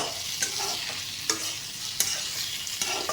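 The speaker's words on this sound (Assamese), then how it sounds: "তাৰপিছত এইখিনি অলপ লৰাই দিব।" Mashed boiled gooseberries are stirred in hot mustard oil left from frying fish, with a continuous sizzle and several sharp, evenly spaced scrapes and taps of a spoon against the pan, close and clear.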